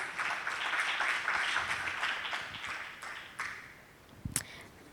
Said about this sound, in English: Can we have a huge round of applause for the team, please?